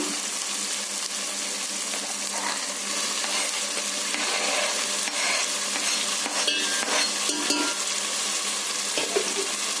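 Tomato pieces cooking in a pan for a fish curry, a constant close sizzle overlaid with repeated spoon scrapes and light metallic clinks as they are stirred.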